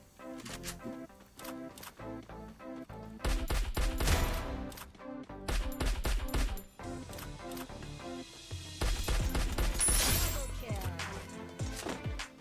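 An SVD sniper rifle fires in the video game Free Fire, with sharp, loud cracks in irregular clusters that repeat over several seconds, mixed with other game sounds and some voice.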